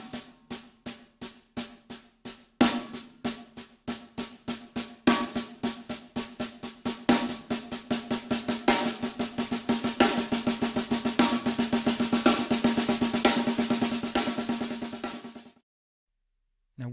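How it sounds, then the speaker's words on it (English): A snare drum is played with the triple paradiddle rudiment using accented and tap strokes, starting slow and accelerating into a dense rapid roll of uneven accents before stopping abruptly, close and alone. "The correct stroke types for a triple paradiddle are"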